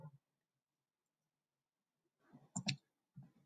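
A few quick, close clicks on a laptop touchpad break up near silence in short bursts.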